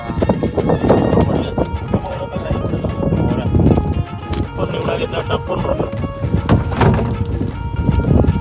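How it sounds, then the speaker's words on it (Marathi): Rhythmic hoofbeats of a horse-drawn rickshaw clip-clop along a busy street amid traffic noise and nearby chatter, fairly loud and close throughout. "घोडा रिक्षा"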